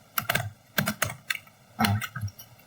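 Someone types a short command on a computer keyboard: a few quick clusters of crisp key clicks separated by brief pauses, close and clear, with no speech.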